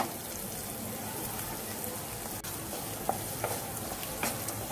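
Diced carrot cubes sauté in a pan for oats upma, giving a steady, moderately quiet frying hiss with faint stirring scrapes and a few soft ticks throughout; no one speaks.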